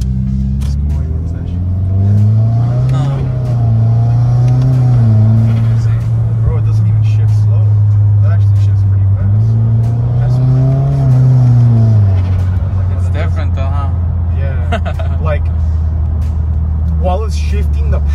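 A Subaru WRX with a CVT pulls hard, its engine drone climbing steadily, dipping briefly at simulated shifts, then climbing again. It is loud and steady from inside the cabin, with occupants talking over it.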